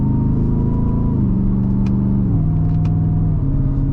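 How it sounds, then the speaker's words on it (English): A 2024 Ford F-150 Raptor R's engine drones loudly and steadily from inside the cab, its pitch stepping down and settling at several points as the transmission shifts gears while driving. "Downshifts really crack off pretty well, to be honest."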